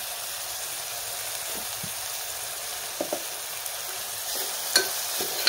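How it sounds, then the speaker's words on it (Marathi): A pea vegetable masala sautés in a pan with a constant soft sizzle, broken by a few light knocks and scrapes of stirring near the end, with no one speaking. "कमी गॅसवरतीच आपल्याला हे छान परतून घ्यायचं"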